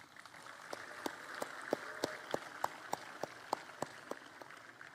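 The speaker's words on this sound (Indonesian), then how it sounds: "Ada yang tepuk tangan bahagia." Sparse applause from an audience at a Hardiknas 2025 ceremony speech by a governor, with individual claps picked out in a slow, fairly regular rhythm over a low hum of background crowd noise.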